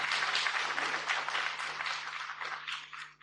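Lecture audience breaking into applause during a talk on Vedanta, a moderate stretch of many hands clapping with a low steady hum beneath, tapering off at the end.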